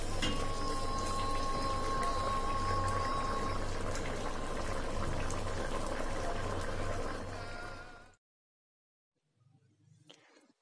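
Koshari simmers and bubbles in a single covered pot, a steady close hiss of boiling liquid that stops abruptly after about eight seconds, followed by near silence and faint rustling.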